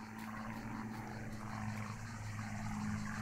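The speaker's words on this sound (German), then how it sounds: "Die Flugzeuge fliegen oben am Himmel." Airplanes droning overhead in the video game Martha is Dead, a steady, fairly faint propeller engine hum that holds evenly throughout.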